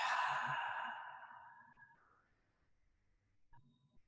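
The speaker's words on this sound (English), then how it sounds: "taking a breath in, and then a breath out" A long, soft exhale during a yoga session, starting fairly full and fading slowly into quiet over about two seconds, followed by a faint breath near the end.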